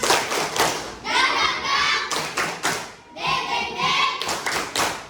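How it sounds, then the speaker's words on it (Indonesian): A group at a university teacher-training session performs a rhythmic spirit clap, with bursts of loud, tight clapping and thumping beats in repeating phrases, separated by brief pauses and mixed with chanting voices. "Oke, coba tepuk semangat."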